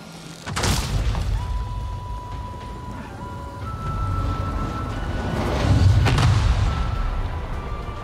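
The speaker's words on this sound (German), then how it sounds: "Halt Abstand von der Explosion." A loud explosion in the video game Avatar Frontiers of Pandora hits with a sharp boom and rolls into a sustained rumble, followed by a second blast a few seconds later over a game tone.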